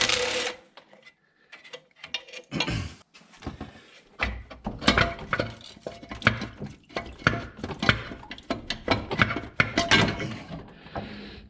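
A ratchet clicks in quick bursts, loosening bolts on the front engine cover of a 2006 Ford Mustang 4.0 V6, with irregular clattering and tool knocks close by and no talking.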